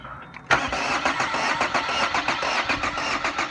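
A car engine cranks over on the starter with a battery clamp attached for a relative compression test, the engine misfiring; a loud, steady rhythmic churning of rapid pulses begins abruptly and runs continuously without talk.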